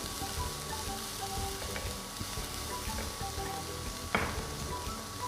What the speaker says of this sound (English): Let's fry this nicely.